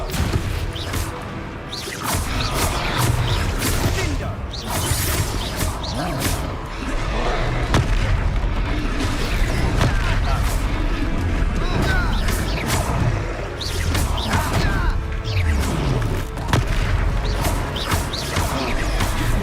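Bomb explosions and spell impacts in the Hogwarts Legacy video game: repeated crashing, thumping blasts and whooshes over a dense, loud battle mix, with game character voices talking throughout.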